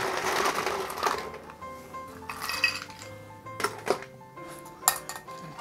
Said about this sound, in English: We're gonna add some fresh ice to our glass.